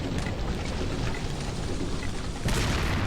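Gunfire and booming in the video game Resident Evil 4, a loud continuous rumble of blasts with a sharper, heavier burst arriving near the end.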